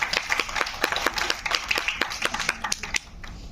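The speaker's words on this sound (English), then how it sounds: "A huge round of applause for the participant." An audience gives a participant a dense, lively round of hand clapping that carries on steadily and then stops abruptly near the end, with no talk over it.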